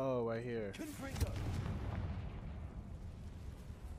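The Confringo spell is cast in Hogwarts Legacy, a rising whooshing tone bursting into a loud fiery explosion that rumbles and crackles as it fades; a voice speaks just before the blast.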